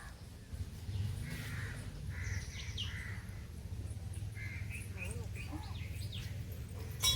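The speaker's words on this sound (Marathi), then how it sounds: "शांतता, पक्ष्यांचा आवाज आहे फक्त इथे." Birds call sporadically in the distance beside a creek at a temple in Thane, including crow-like caws, over a steady low outdoor rumble with no one talking.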